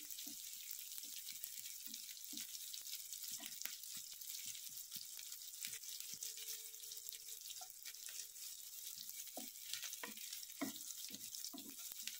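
Onion sautéing in a pan for a cashew masala curry gives a faint, steady sizzle with scattered soft clinks and scrapes of stirring and no voices.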